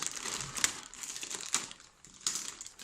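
Packaging for a hair clipper ordered from AliExpress is opened up close, with soft crinkling and rustling of plastic and cardboard in irregular bursts and no talking.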